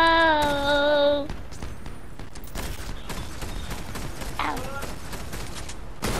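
Rapid gunshots crack in a battle royale shooter after a brief tonal game chime, the quick shots ringing out in scattered bursts at a moderate level while players talk over the action.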